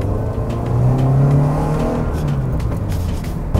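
Subaru BRZ fitted with an aftermarket exhaust muffler, heard from inside while driving: a steady, loud engine drone that swells and settles, with a deep exhaust note running continuously and no talking.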